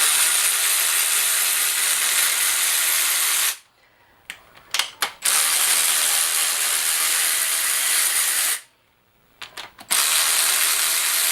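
A ratchet loosens nuts during a 1JZ (1.5JZ-GTE) engine teardown, giving two long, loud bursts of dense, steady mechanical whirring split by a short quiet gap with a few faint clicks.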